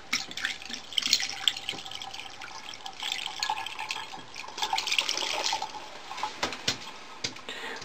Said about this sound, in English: Once you've poured that down the drain,